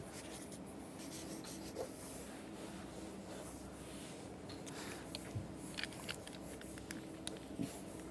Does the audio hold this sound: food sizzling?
no